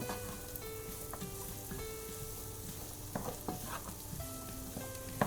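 Celery cooking down in a pan for low-carb broccoli soup, with a steady sizzle and intermittent utensil scrapes and stirring clicks, close and clear, with no talking.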